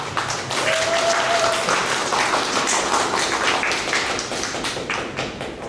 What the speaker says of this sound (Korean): 오늘 와주신 조현수 대표님도 큰 박수로 맞이하겠습니다